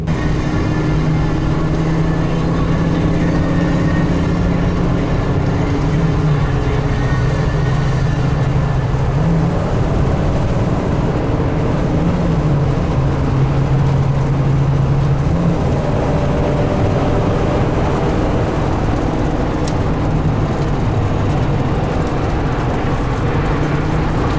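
A Class C motorhome cruises along a highway through New Mexico, with a loud, steady low engine drone and road rumble that hold constant throughout and carry no speech.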